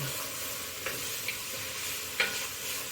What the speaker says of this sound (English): Okay, we're going to get this stirred up.